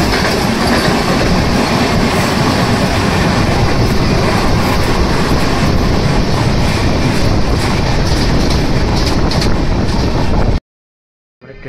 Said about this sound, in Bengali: 22896 ডাউন পুরী হাওড়া বন্দে ভারত এক্সপ্রেস।